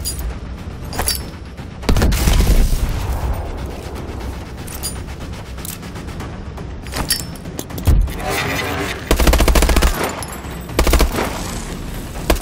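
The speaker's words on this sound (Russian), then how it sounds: "Использую сенсорную гранату еще раз." Sensor grenade blasts and weapon fire in Call of Duty: Advanced Warfare, with several loud booming bursts and rattling metallic clatter over a steady rumbling game background.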